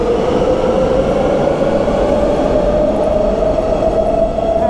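Warsaw Metro M1 subway train in an underground station at rush hour, a loud, steady rumble with a sustained mid-pitched whine of motors and wheels, close and continuous.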